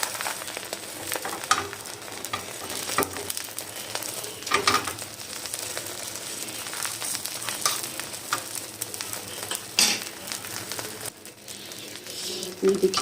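Chicken shami kabab frying in a pan, a steady crackling sizzle with scattered pops and spatters, close and fairly loud, no talking.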